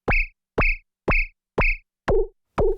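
Six short, evenly spaced tonal blips come from a Gotharman SpazeDrum synth with two oscillators on opposite pitch envelopes, one sweeping down and the other up. The last two hits change character from the first four.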